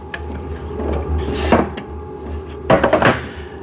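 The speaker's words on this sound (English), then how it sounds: "Let's flip this table piece over so you can see how the bottom looks." The wooden top piece of a VEVOR cycling desk is flipped over, making two close bursts of knocking and scraping, one short and one longer, against a steady low room hum.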